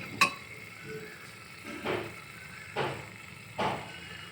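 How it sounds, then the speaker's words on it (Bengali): A spoon stirs chickpeas in a metal pressure cooker pot, one sharp clank then three scraping strokes at an even pace, close and moderately loud with no talking. "এটাকে একটু ভালো করে নেড়ে চেড়ে এর মধ্যে জল দিয়ে কুকারটা আমি আটকিয়ে দেবো।"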